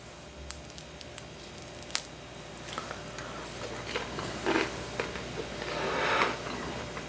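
Quiet crunchy bites of oven-baked fries with Parmesan, a few sharp crackles followed by soft squishy munching, close to the listener with no talking.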